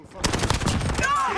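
Rapid automatic gunfire bursts from the video game Modern Warfare, loud and dense for about a second, with players' voices mixed underneath.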